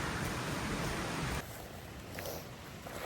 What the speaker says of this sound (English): Oh, it's sprinkling again. Yeah, it's raining.